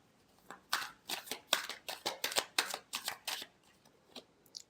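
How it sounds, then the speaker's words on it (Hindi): Tarot cards shuffled by hand: a series of about a dozen crisp, papery riffles and slaps in a quick, fairly even rhythm, close and clear, with no talk. "Last shuffle."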